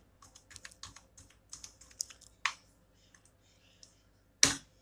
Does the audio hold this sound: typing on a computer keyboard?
yes